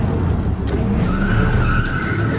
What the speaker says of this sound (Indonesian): Sebuah SUV berwarna gelap tiba-tiba berhenti di depan Thomas dan hampir menabraknya.